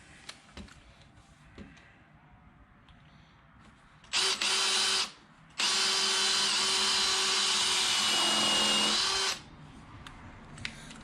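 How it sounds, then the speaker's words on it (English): A power drill with a spade bit bores into wood: a brief high whine, a pause, then a long steady run of several seconds that bogs slightly near the end, loud over a quiet room, with no talk. "The bit drills much better after it's been sharpened."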